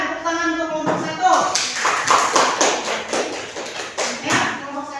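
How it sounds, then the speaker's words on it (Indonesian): Students in a classroom clap for group 1, a brief, scattered burst of applause with some thumping and taps, under lively chatter. "Silakan tepuk tangan untuk kelompok 1"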